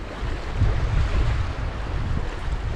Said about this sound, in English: Beautiful day on the water, but way too much wind. I mean, it's white capping out there.